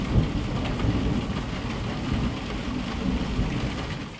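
Steady rain falling at a racetrack, a dense continuous hiss with low rumbling underneath, fairly loud and close, with no voices.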